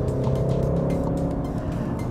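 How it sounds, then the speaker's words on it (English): A low, steady engine drone hums inside a 2016 Volkswagen Golf R, a smooth synthetic-sounding tone with a faint rhythmic pulse from its artificial engine sound, no talking. "Don't know if I'm a big fan of the fake engine noise"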